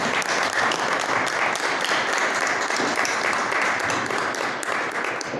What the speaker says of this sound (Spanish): démosle pues la mejor de las bienvenidas y un aplauso a nuestro querido Rafael